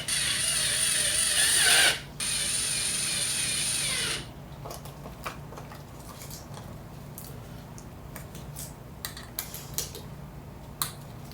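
Ratchet tightening the last four bolts in a Nissan GTR engine bay, a dense run of close clicking for about four seconds with a short pause, then scattered faint clicks and taps.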